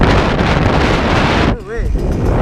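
Strong desert wind roars loudly against the microphone in a harsh, constant buffeting that drops away suddenly partway through, leaving quieter gusts.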